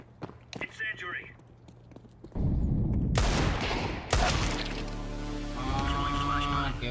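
Counter-Strike 2 gunfire erupts in loud, sharp bursts after a quieter stretch of footsteps, with dense overlapping shots and game noise filling the rest, while a voice talks over the action.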